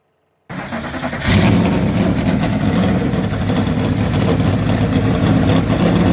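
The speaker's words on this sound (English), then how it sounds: "start your engines." Race car engines start and rev hard for a NASCAR diecast marble race, a loud roar bursting in after a brief silence and holding steady and close to the end.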